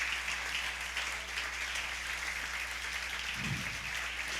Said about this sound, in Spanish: Fuerte ese aplauso al Señor.